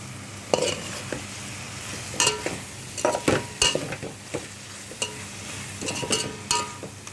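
Bagara rice mixture with fresh coriander being stirred and fried in a Telangana-style kitchen, a steady sizzle broken by intermittent scraping strokes of a spoon against the pan, close and clear with no talking.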